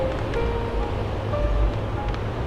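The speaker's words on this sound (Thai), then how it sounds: "เสียงคลื่น" Sea waves rolling onto a beach at night in Pranburri, a steady roar of surf mixed with strong wind buffeting the microphone.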